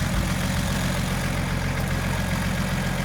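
An ESARCO 8x8 truck engine idles steadily with a deep, low rumble and a throaty exhaust note, close and loud, running alone without talk for the full stretch.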